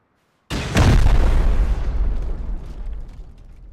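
A rocket explosion in Rust hits after a brief silence as a single loud, close boom with a deep rumbling tail that slowly fades over a few seconds.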